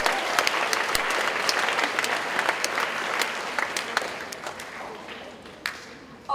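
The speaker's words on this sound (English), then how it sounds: "Can we please give them a round of applause?" Warm round of applause from a school assembly audience at St Hilda's School for competition winners, steady and full at first, then thinning out with scattered individual claps near the end.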